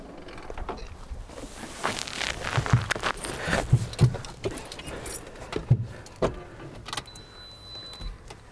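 Keys jangle and a key is handled in the left-side ignition of a UAZ-452 van, giving a series of irregular metallic clinks and rattles, close up, with scattered mechanical clicks and no speech.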